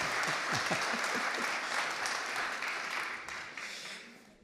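Audience clapping fills a large hall at an anniversary gathering of ACAT-France, welcoming president Yves Roland: dense, steady applause that gradually fades toward the end.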